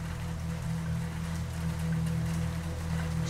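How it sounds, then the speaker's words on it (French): Heavy rain pours in a constant, dense hiss and patter over a low steady hum, unbroken and fairly loud throughout, with no voices. "La pluie est très bruyante en plus."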